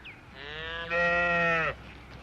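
A single long, loud moo from a cow, rising and holding for about a second before cutting off, with quiet surroundings.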